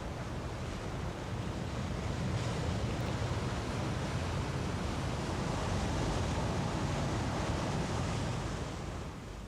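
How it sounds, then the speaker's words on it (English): Wind and sea swell at a rocky Cornish cove, a dense, steady roar of surf and gusting wind buffeting the microphone, continuous and loud with no voices. "The clouds come across, the wind and the swell picks up."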